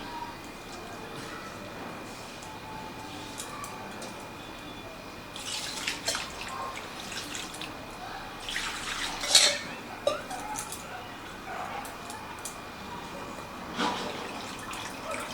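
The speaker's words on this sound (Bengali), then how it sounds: "এবারে খুব ভালো করে এই জলটা দিয়ে আমি ধুয়ে নেব যাতে এর মধ্যে কোনো টক ভাব না থাকে" Chhena cheese rinsed with water in a bowl, giving soft drips, splashes and light clinks of the bowl, faint and close, with quiet voices in the background at times.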